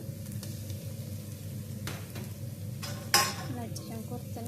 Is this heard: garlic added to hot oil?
yes